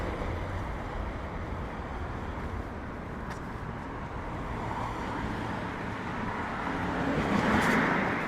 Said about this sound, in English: There's a lot of noisy, fast-moving traffic.